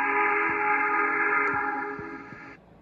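A lone train whistle, presented as from a ghost train, sounds as one sustained, fairly loud tonal blast that holds steady and then cuts off near the end, with a few faint knocks beneath it.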